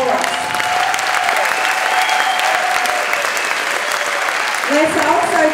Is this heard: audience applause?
yes